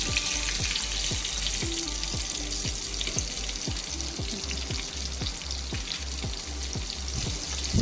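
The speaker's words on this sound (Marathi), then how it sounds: "एक दोन मिनिट हा फ्राय करून घेऊ आणि मग साईडला ठेवू" Pomfret fish frying on a hot tawa makes a steady, close sizzle with rapid crackling pops of oil throughout, alone with no voices.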